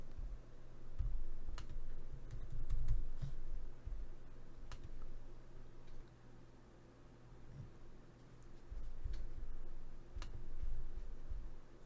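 A password is typed on a MacBook keyboard during first-time account setup: sparse, faint key clicks in irregular bursts over a quiet room hum, with no speech.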